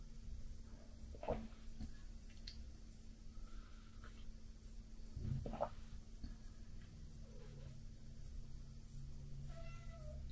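A cat meows and wails indoors in a few drawn-out cries spread across a quiet room, faint against a low background hum, with no talking.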